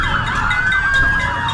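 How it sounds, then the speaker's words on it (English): A loud police and fire emergency siren wails nearby in Kaneohe, its tone sweeping up and down over a low traffic rumble, with horns sounding. "Police, firefighters, and NCIS sounded their horns and sirens"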